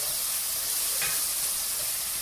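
Tomatoes frying in a pan for meat lasagna, a steady close sizzle and hiss with no talking.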